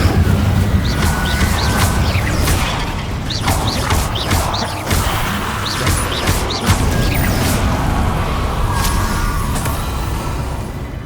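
Levioso and Incendio spells are cast during a Hogwarts Legacy boss fight against Solomon Sallow. Loud, dense magical bursts, whooshes and crashing impacts follow one another without pause.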